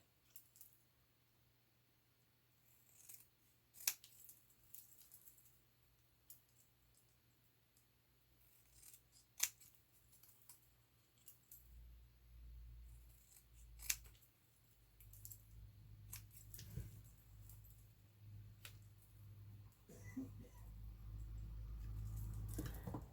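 Scissors trim paper for a side-tuck page pocket, making a series of sharp, separate snips with quiet paper rustling between them, close and with no talk, as a low hum builds toward the end.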